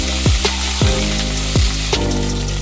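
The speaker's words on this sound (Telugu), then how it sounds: "కాస్త ఆవాలు చిటపటం అంటున్నప్పుడే ఎండుమిరపకాయ కూడా వేసేసుకొని చక్కగా వేగిపోగానే కరివేపాకు రెబ్బలు వేసుకొని వేయించుకుంటున్నాను" Mustard seeds, dried red chillies and curry leaves fry in hot oil, giving a loud, close, continuous sizzle with several sharp pops and crackles spread through it.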